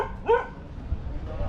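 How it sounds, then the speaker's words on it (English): A single sharp dog bark rings out near the start, followed by low rumbling background noise outdoors, with no further barks. "They're obviously very proud of these dogs."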